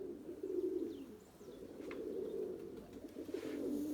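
A flock of pigeons coos steadily and softly at close range, a continuous low burbling that swells and dips, with a few faint chirps above it.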